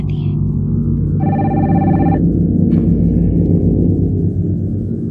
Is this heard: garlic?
no